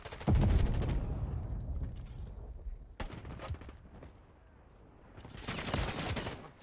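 Gunfire in the Call of Duty Modern Warfare III video game: a loud opening burst of rapid shots, then scattered cracks and quieter lulls, and another heavy flurry of fire near the end.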